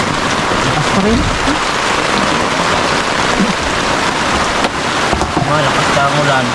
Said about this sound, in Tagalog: Malakas ka ang ulan. Unos yan eh.